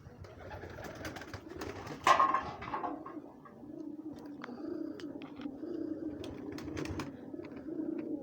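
Gola pigeons, about a hundred, coo steadily in a soft, continuous murmur, with a brief louder flutter or bump partway through and faint chirps scattered over the top.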